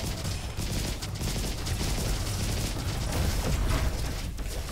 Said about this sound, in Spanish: Rifle de torpedos, es de nivel 5. Los proyectiles explotan, los proyectiles son autoguiados.